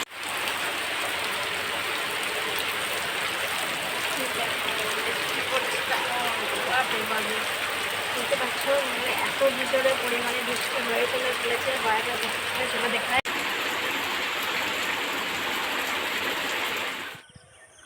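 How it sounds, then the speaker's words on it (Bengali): Rain falls steadily in a constant, loud hiss for a long stretch, with faint murmuring beneath, before cutting off near the end. "বৃষ্টি পড়ছে"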